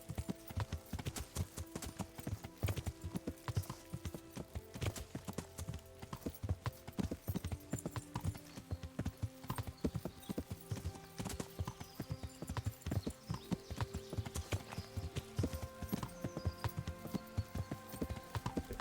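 A horse ridden in Kingdom Come: Deliverance clip-clops in a steady, rapid rhythm, the hoofbeats close and continuous throughout, with game music tones underneath and no talking.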